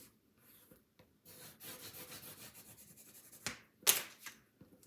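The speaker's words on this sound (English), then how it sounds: "Push it up into your chipboard guides, okay? And burnish that really well." Paper being burnished by hand onto a chipboard scrapbook page, heard as soft, close rubbing strokes in a steady series, with one sharper scrape near the end.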